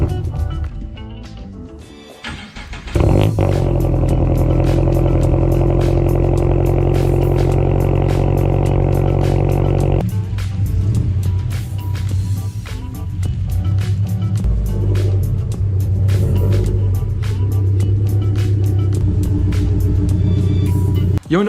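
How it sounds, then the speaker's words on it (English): Toyota GR86 engine cranking and catching after a quiet start, then settling into a loud, steady idle rumble to warm up, close by, with a slight change in tone partway through. "let's go ahead and get the 86 all started up and let it warm up for a few minutes"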